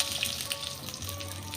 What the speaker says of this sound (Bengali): ছাকা তেলে লাল লাল করে ভেজে নেব।